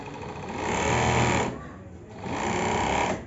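Overlock 747 sewing machine stitching fabric in two close, loud whirring bursts with a short pause between them.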